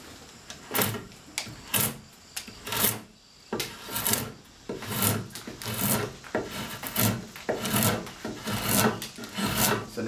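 A spokeshave shaves the edge of a wooden chair seat, cutting across the flats and skewing into end grain, in close, repeated rasping strokes with short pauses between them, no voices.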